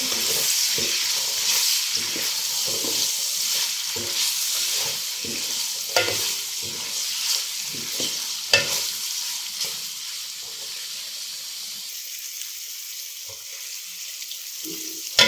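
Three finely chopped tomatoes fry in a pan for a chicken macaroni sauce, giving a steady close sizzle broken by rhythmic scraping stirs that ease off toward the end, with no talking.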